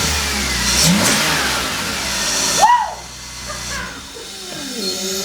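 A coupé's engine turns over and catches, settling into a steady, smooth idle with a few light revs, the roar strong at first then quieter and even.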